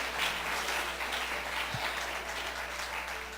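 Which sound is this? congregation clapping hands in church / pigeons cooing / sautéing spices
congregation clapping hands in church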